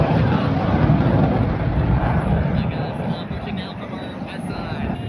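A Blue Angels jet flies over during airshow practice at Pensacola, a loud continuous roar that fades a little toward the end, with a person talking over it.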